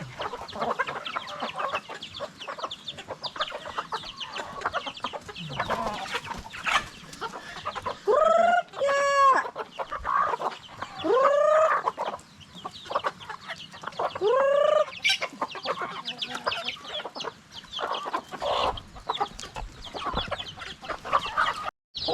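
Chickens and chicks on a farm, a busy mix of clucking hens, shrill peeping chicks and a few loud rising squawks, close and continuous for over twenty seconds.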